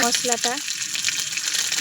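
Onion and panch phoron spices crackle and sizzle loudly in hot oil, a continuous close frying hiss, with a brief voice at the start.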